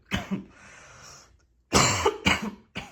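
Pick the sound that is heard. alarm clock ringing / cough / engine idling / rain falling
cough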